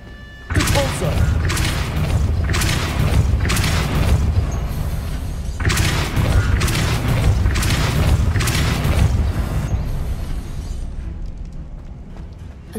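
Depulso spell cast in Hogwarts Legacy: a series of loud, booming magical blasts and thumps repeating in irregular bursts over several seconds, then fading near the end, with game sound throughout.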